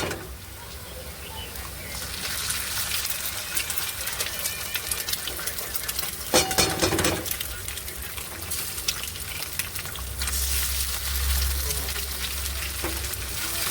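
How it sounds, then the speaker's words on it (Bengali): Eggs with chopped onion sizzle steadily in a wok while a spatula keeps stirring and scraping, a loud continuous fry with a brief clatter of the utensil midway. "ডিমটা দেওয়ার পর কড়াতে খুন্তি দিয়ে এরকম অনবরত নাড়াচাড়া করলেই কুচো কুচো হয়ে যাবে।"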